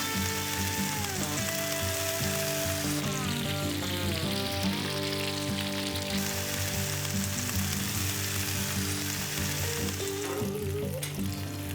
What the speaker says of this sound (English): So I'm gonna cook my bacon first, and when this fat renders down and gives me a bunch of grease